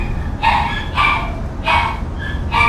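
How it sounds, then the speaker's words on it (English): Pet dogs bark loudly and close by in a home, four or five sharp, evenly spaced woofs over a steady low hum. "My dogs are so loud. They don't even know that they're loud, but they are really loud."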